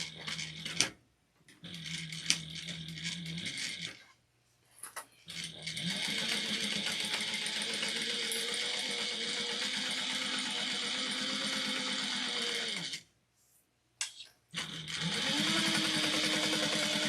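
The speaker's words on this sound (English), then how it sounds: "then we're going to top stitch at 1/8 of an inch." A sewing machine top stitches a clutch bag at an eighth of an inch, running in steady sustained bursts with short pauses between stitching runs, close and alone without speech.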